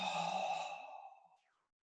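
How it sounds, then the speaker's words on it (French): A slow exhale out through the mouth during an abdominal breathing exercise, a soft, breathy rush that is steady at first and then fades away to silence within about a second and a half, heard close and alone. "L'inspire par le nez, l'expire par la bouche."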